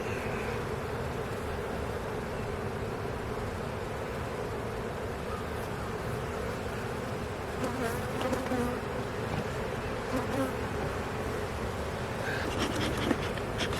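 Honey bees buzz in a bee yard, a dense, continuous droning hum of many insects close by, steady throughout with occasional louder individual bees passing near.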